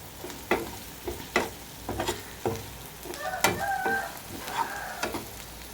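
Prawns fry in a pan with a continuous sizzle. Repeated sharp scrapes and clacks of a spatula stir them at a roughly regular pace. The sounds are close and moderately loud, with no talking.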